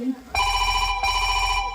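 A telephone bell rings loudly and close in two bursts, the first starting abruptly after a brief moment of talk, with a steady electronic trill that continues to the end.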